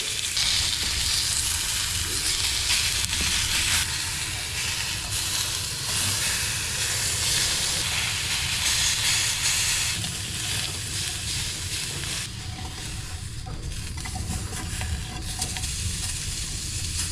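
A lamb steak fries in an open pan inside a mountain cabin, giving a loud, steady, close sizzle and hiss that fills the whole stretch with no one talking.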